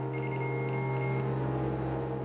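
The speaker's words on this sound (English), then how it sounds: "The beeping that's happening on the floor" Steady high-pitched electronic beeping tones ring over a constant low hum in an old basement, then the high tones cut out and the hum continues alone.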